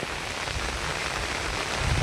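Heavy rain pours down in a steady, dense hiss that stays loud and unbroken throughout, with a slight swell near the end and no voices.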